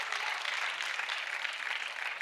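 An audience claps during a sermon, a steady close wash of many hands applauding without pause for the whole moment.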